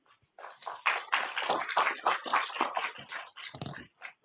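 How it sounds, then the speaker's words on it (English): Audience applause breaks out at a city council meeting, a burst of many hands clapping at close range, dense and fairly loud, lasting a few seconds before thinning out. "can we ask the audience not to applaud in between or not to make noise and comments"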